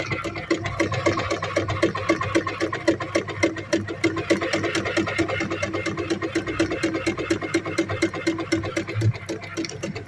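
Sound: Veritas 8018/2 sewing machine sewing forward and backward

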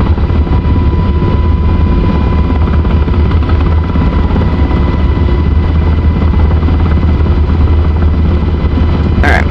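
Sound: UH-60L helicopter flying in DCS World video game

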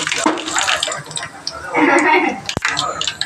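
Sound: mustard seeds spluttering in hot oil

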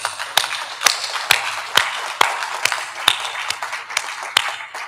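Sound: audience clapping

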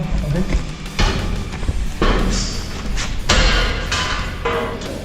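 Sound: firefighters forcing open a door during rescue drill

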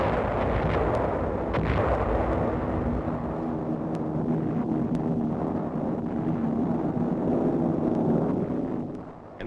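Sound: naval bombardment by destroyers and cruisers, 1944

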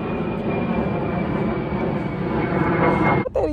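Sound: airplane flying overhead

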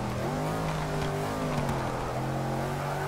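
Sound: car engine in a video game

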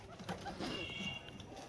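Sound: pigeons cooing

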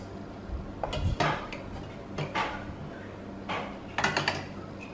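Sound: ceramic bowls being placed into a pot of water

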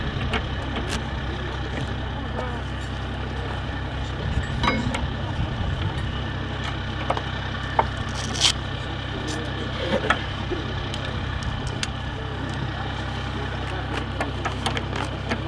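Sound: Amphibious Combat Vehicle engine running after power on

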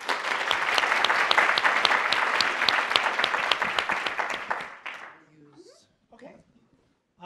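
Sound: audience applause welcoming a speaker

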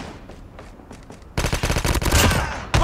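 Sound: gunshots in the Call of Duty video game

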